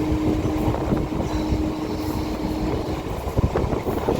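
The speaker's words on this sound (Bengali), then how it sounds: "মেট্রো থেকে এখন উঠে এসেছি লোকাল ট্রেনে," Steady rumble and rattle of a moving local train carriage in Kolkata-area suburban rail, continuous and fairly loud throughout, with a faint high tone running through the first half.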